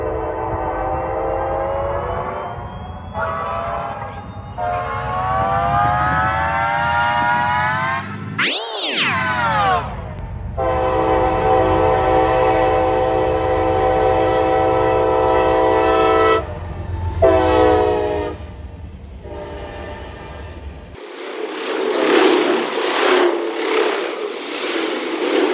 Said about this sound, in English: our very next train would be a long rock train with a Jevo in lead